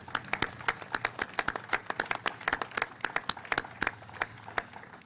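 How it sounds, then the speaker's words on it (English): Audience applause at a public announcement of state funding for land banks in Schenectady, a steady patter of hand claps from a modest crowd lasting several seconds. "I hope you'll all give them a round of applause for this"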